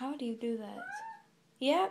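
A cat meows a few times close by, short rising and falling calls, with a person speaking briefly in between.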